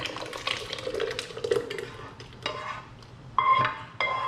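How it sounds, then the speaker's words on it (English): Homemade barbecue sauce with chunks of onion and pineapple pours into a blender, giving a few short wet splashes and glugs with some clinks of the container, close and moderately loud. "take your sauce, just pour it right on in"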